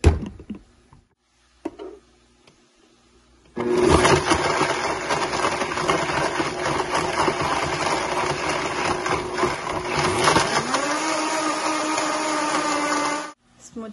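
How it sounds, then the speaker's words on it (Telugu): A kitchen blender grinds oats, banana, dates, raisins, walnuts, figs and almonds with a little water for a smoothie, starting after a few quiet seconds with a loud, steady whirring roar that shifts pitch near the end before stopping abruptly. "ఇప్పుడు గ్రైండ్ చేస్తున్నా."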